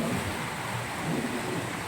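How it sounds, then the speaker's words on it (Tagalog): Steady strong wind before a typhoon roars and buffets the microphone outside a supermarket, a constant rushing noise with low rumbling gusts and no voices. "malakas ang hangin"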